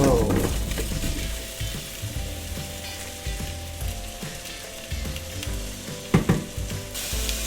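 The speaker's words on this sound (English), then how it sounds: "So the butter is all melted, and it's time to add the potatoes, like so." Diced potatoes hit melted butter in a hot frying pan for Swedish pyttipanna and sizzle steadily, close and fairly loud. Scraping and stirring clatters from the pan sound over the frying, with a brief cluster of louder knocks near the end.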